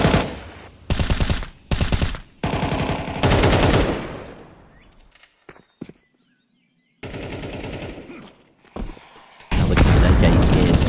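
Automatic rifle spam in a Counter-Strike 2 pro match on a bomb site: loud rapid bursts of gunfire in several clusters, broken by a quiet stretch with a few scattered sharp shots, then firing resumes.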